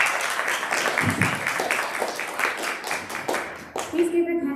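School student-government debate audience applauding a candidate, a spread of hand claps heard indoors at moderate level while a voice speaks over it.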